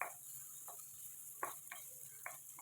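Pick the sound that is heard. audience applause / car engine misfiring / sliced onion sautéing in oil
sliced onion sautéing in oil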